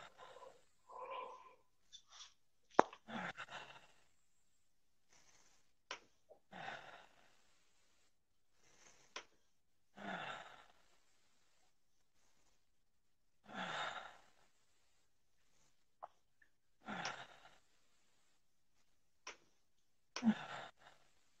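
Deep exhalations and sighing breaths during a guided breathing exercise in a therapy session, about a dozen separate breaths spaced a few seconds apart, close and fairly quiet, with silence between them.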